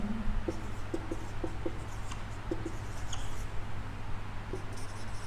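A marker or chalk writing an equation on a classroom board, heard as faint scattered taps and light strokes over a steady low room hum, with no speech.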